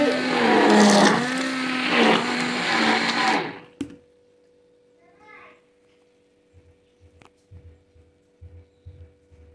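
A blender whirs loudly at close range while making a chocolate shake, running steadily for about three seconds before cutting off abruptly, followed by quiet, faint household knocks.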